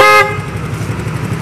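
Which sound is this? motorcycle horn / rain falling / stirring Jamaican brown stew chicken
motorcycle horn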